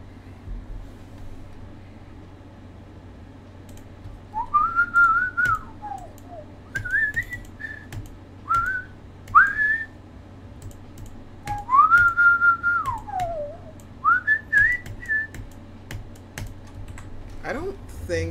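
A person whistles a tune in short melodic phrases, rising and falling, over a steady background hum with occasional keyboard clicks, close to the microphone and fairly quiet.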